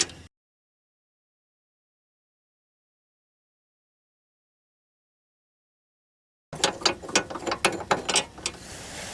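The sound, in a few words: ratchet loosening 15 mm steering rack bolts on Chevy HHR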